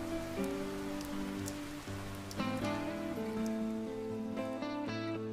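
Steady rain falls in the video game Crisis Core Final Fantasy VII, a soft even patter beneath sustained musical tones, with no talking.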